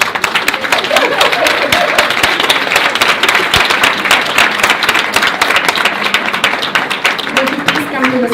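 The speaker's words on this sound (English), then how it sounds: "So would you please give an applaud of welcome to Birgitta Berger." Loud, sustained audience applause welcoming a speaker to the stage at a bilingual programs conference in Prague, dense rapid clapping throughout with crowd voices mixed underneath.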